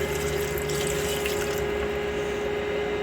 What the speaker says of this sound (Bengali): এবার আমি পরিমাণ মতো পানি দিয়ে মাংসগুলো ভালোভাবে রান্না করব